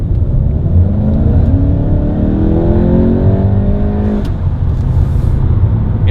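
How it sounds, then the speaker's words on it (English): Interior sound of a Mk7 Volkswagen GTI with an ECS Tuning air induction package pulling hard, a loud engine note climbing steadily through the revs under constant road noise, then easing off. "You can certainly hear the intake a little bit better."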